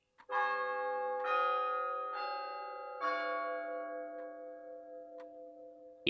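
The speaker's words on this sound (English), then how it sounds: "the hour bell sounded, which it now did with a deep, dull, hollow, melancholy" A deep, hollow hour bell tolls in slow, melancholy strokes, each ringing out with a long, shimmering decay before the next strike, about five strokes in all, with no voices.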